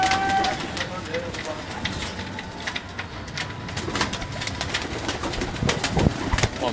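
Pigeons coo softly amid a busy, noisy background in Gujranwala, Pakistan, with people talking over the scene.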